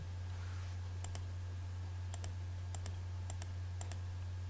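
Keys pressed on a computer keyboard while working in AutoCAD: about five pairs of crisp, quick clicks spaced roughly a second apart, faint over a steady low electrical hum.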